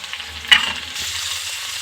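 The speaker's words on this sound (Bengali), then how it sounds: "আদাটাকে কিন্তু খুব ভালো করে ভাজতে হবে, নইলে কিন্তু আদার একটা কাঁচা গন্ধ থেকে যাবে" Ginger paste with turmeric and a little chilli powder fries in a pan, a soft crackle that swells into a steady, close hiss after a brief stirring knock.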